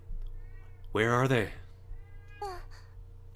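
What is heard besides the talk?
cat meowing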